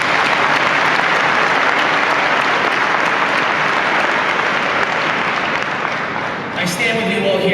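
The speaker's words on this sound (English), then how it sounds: "Let's give them a big round of applause" A big round of applause from an awards ceremony audience, loud and sustained dense clapping filling the hall for several seconds, with a voice briefly emerging near the end.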